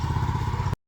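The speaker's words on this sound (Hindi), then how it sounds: "ये मोटरसाइकिल पे ज्वार की घास लेकर अपने घर जा रहे हैं।" A motorcycle loaded with sorghum fodder runs steadily on a Pakistani village track, its engine a constant close hum with a rough low throb that cuts off abruptly.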